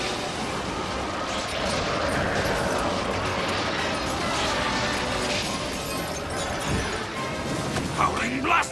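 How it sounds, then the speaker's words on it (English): Seadramon's ice blast attack from the Digimon anime roars out as a loud, sustained rushing blast with crackling, shattering edges, mixed under character voices and dramatic effects. "Seadramon's using his lethal ice blast"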